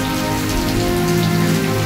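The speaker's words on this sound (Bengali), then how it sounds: "তা দেখতেই পাচ্ছ আজকে মালয়েশিয়াতে খুব বৃষ্টি হচ্ছে" Heavy evening rain in Malaysia pours down in a dense, unbroken roar of drops striking hard surfaces nearby, loud and steady with no voices.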